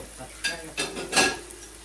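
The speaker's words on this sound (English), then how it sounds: "let that saute a little. before adding the saltfish." Raw vegetables and seasoning hit warm oil in a pot, giving a soft ongoing sizzle with a few louder bursts as they are stirred, close by with no talking.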